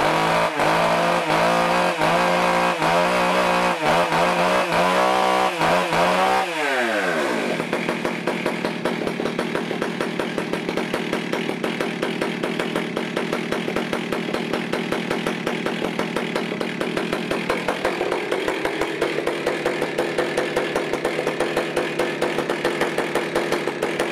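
A chainsaw warmed up and run for milling wooden cants into a picnic tabletop: at first a loud, rough idling and revving engine, then after a sharp drop a steady high-pitched cutting whine that holds under load with small shifts, with no talking.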